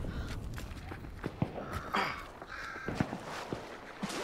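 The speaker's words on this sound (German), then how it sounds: "Raben vor uns." Ravens caw repeatedly in a Hunt: Showdown match, several harsh calls spread across the scene at moderate distance over game ambience and faint footsteps.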